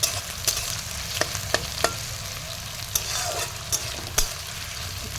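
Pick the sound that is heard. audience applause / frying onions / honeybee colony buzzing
frying onions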